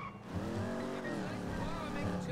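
A car in the video game GTA 5 driving with its tires squealing, a continuous engine roar with rising and falling skid tones, loud and steady throughout.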